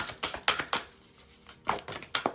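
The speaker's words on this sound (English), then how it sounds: "Last shuffle, please." Tarot cards shuffled during a reading, heard as a quick series of crisp riffling and slapping bursts, close and fairly loud, with a brief pause in the middle and no talking.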